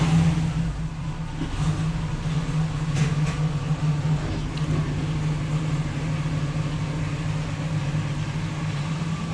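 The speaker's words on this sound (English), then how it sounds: "it's not going to take any time if you just crank the car back up" A Chevrolet Camaro engine running steadily after being cranked back up following leak repairs, with a continuous low hum and only mild rev changes, close and alone.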